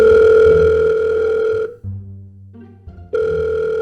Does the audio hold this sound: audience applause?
no